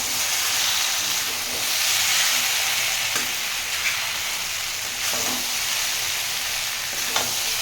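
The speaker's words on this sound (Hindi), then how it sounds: "ये अच्छी तरह से अब भून गए हैं, इनको बस थोड़ा और भूनकर इनको मैं सर्व करने के लिए निकाल दूँगी" Wheat-flour snack pieces sizzle steadily in a hot pan as they are stirred, with occasional scraping clicks over a constant close frying hiss.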